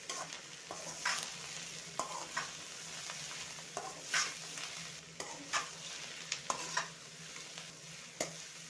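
Romaine lettuce saag fries and is stirred in a pan, a steady sizzle broken by repeated scraping and clattering stirring strokes at a moderate, close level.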